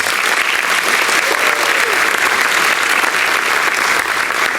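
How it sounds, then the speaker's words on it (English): Audience applause at a university spring reunion banquet, a dense, steady wash of many hands clapping throughout, loud and sustained without letup. "Please recognize our former outstanding graduates with your applause."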